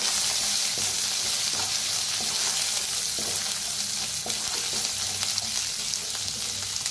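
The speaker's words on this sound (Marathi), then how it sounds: "त्याच्यात टाकूया हळद अर्धा चमचा, अर्धा चमचा धना पावडर, भाजून घेऊया" Half a spoon each of turmeric and coriander powder roasts in a hot pan for a bitter gourd dish, making a loud, steady sizzle with faint scraping stirs throughout.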